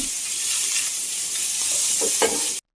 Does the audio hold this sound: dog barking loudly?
no